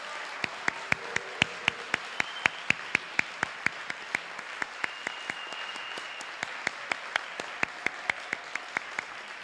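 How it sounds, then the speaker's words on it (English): Applause from an audience at a high school senior community awards evening, sustained even clapping with many sharp individual claps standing out, moderately distant and filling the room throughout. "giving a round of applause for our spectacular kids"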